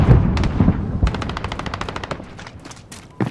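Rapid bursts of P90 submachine gun fire in a first-person shooter video game, loud and close, with dense rhythmic shots running through and a sharp final burst at the end.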